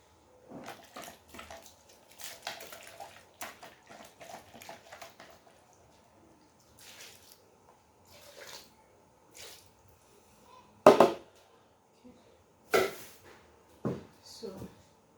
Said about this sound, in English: As usual, I will rinse my container.